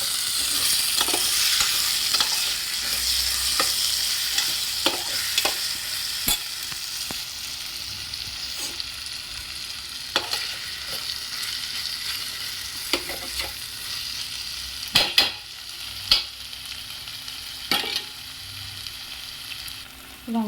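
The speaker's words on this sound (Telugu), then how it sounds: "ఇప్పుడు కొంచెం ఒక్క స్పూన్ సాల్ట్ వేసి కొంచెం బాగా కలుపుదాము" Brinjal curry stirred in a pan after a spoon of salt goes in, a steady close sizzle broken by repeated sharp spoon scrapes and clicks against the pan, no voices.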